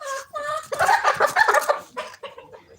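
White Leghorn laying hens cluck and chatter in a commercial chicken farm flock, a dense run of overlapping calls in bursts, close and fairly loud.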